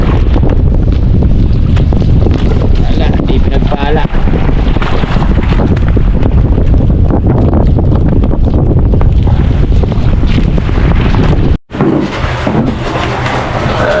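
A boat engine drones steadily at sea on the Pacific over loud wind buffeting the microphone, with brief talk near the end.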